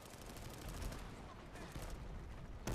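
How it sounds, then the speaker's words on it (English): Rapid gunfire in the video game Planetside 2 comes as a dense, continuous rattle of overlapping shots at low level, ending in a sharper burst. "Why am I even shooting at him, really?"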